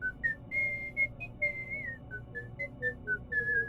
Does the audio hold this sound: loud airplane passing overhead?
no